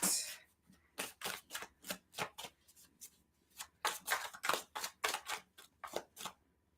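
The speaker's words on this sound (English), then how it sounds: "Make shuffling very hard, Luna." Rapid, crisp riffles of tarot cards being shuffled, repeated bursts in quick rhythm with a short pause midway, close and clear.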